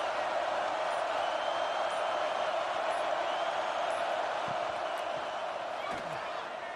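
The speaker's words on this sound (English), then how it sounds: "3rd down and the crowd really getting into it." A stadium crowd in the video game College Football 26 roars in a steady, dense wash of cheering throughout, with a commentator's voice over it.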